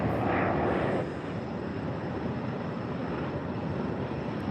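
A jet airplane engine roars steadily at Tampa International Airport, loud broadband noise that eases slightly after the first second and then holds constant.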